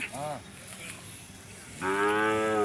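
Hallikar cattle lowing at a rural cattle fair in Chelur, a short moo followed after a pause by a long, loud, resonant one close by, with faint background commotion.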